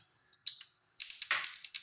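Sharp little pops and crackles of mustard seeds spluttering in hot oil, scattered bursts that quicken into a busier patch of popping near the end.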